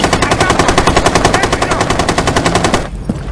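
Automatic gunfire in Rainbow Six Siege, a loud, steady rapid-fire stream of shots close up, lasting nearly three seconds before cutting off abruptly.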